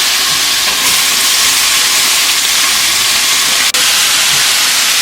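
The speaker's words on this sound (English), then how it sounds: "put a little bit of oil in here on the side and then add in the green peppers and onions" Green peppers and onions hit oil on a hot cooking surface and sizzle loudly and steadily in a continuous broadband hiss, close up, without talk.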